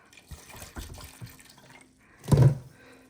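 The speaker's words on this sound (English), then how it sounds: "I usually just pour in enough to kind of cover them." Apple juice poured over cut apples in a pot for homemade apple butter, a soft trickling splash that swells into one louder gush near the end, with light clinks before it.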